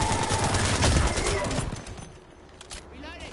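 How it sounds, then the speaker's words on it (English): Gunfire in the Apex Legends video game, a dense, loud burst of rapid shots that thins out toward the end, with a voice speaking over it. "Yeah, you're shooting me."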